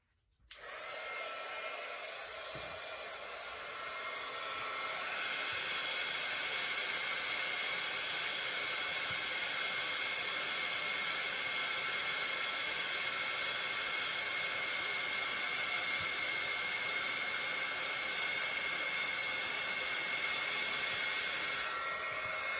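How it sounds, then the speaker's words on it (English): Heat embossing tool blowing hot air over a note card, a steady loud whirring blast that switches on and then runs without a break, close to the mic. "And I'll get my embossing tool here."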